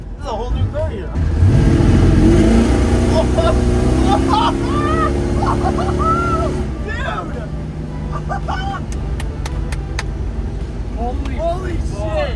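A Ford Courier engine revs hard after a tune-up, a loud rising roar for several seconds before it settles into a rough idle, while excited voices talk over it.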